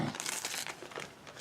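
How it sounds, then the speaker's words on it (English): Sheet of decoupage rice paper being torn and crinkled by hand up close, a short papery rustling rip lasting about a second and a half with no talk over it. "So I'm just going to tear it like this so I can fit it on here"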